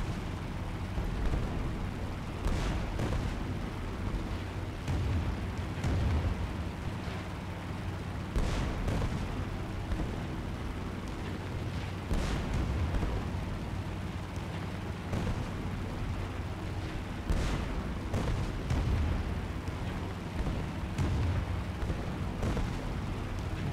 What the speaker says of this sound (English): There is our flak